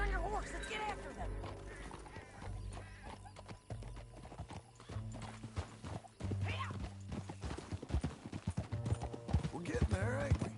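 Horse hooves clip-clopping and galloping in Red Dead Redemption 2, a quick rhythmic beat growing louder and faster toward the end, mixed with game sounds and occasional voices.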